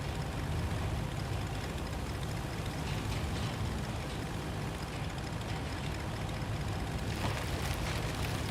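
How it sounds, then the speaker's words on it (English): A vehicle engine in the video game Roadcraft gives a dense, constant rumbling roar, steady and fairly loud throughout, with no talk over it. "My god, the engine sound on this thing."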